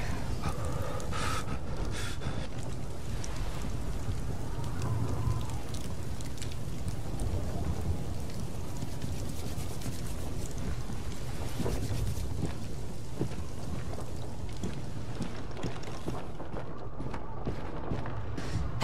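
Steady rain and storm noise from the Beyond: Two Souls video game, a continuous wash of falling water and wind under faint background sounds, without clear thunder claps.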